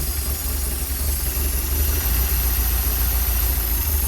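A Porsche 924 engine idles steadily without a break, a constant low rumble with a faint high whine above it and no voices.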